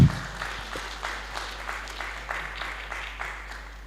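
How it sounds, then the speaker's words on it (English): Audience applause for a translator at an unconference session on polarization and environmental justice: a steady, moderately quiet patter of many hands clapping for about four seconds, with no talk over it. "we can have a big applause for her for translating for us today"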